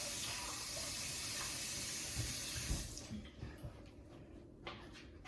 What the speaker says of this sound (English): Let me put a little water in here.